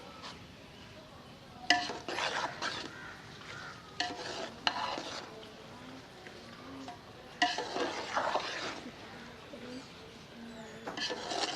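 A spoon gently stirs sweet mutanjan rice in a pot on the stove, making soft scraping and clinking strokes in several short bursts with quiet pauses between them.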